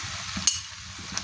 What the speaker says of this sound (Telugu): దోసకాయ ముక్కలన్నీ మిక్స్ చేసుకోవాలి